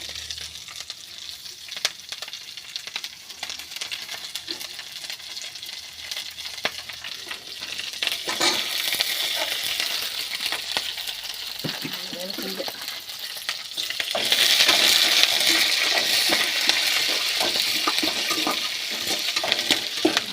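Green chillies frying in a pan for tomato chutney, a steady crackling sizzle that grows louder and brighter partway through, with occasional stirring scrapes.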